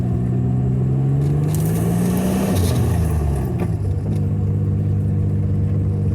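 A Nissan Z car drives and accelerates onto turbo boost, its engine note climbing steadily in pitch, dipping briefly at a shift, then droning on loud and close with no talking.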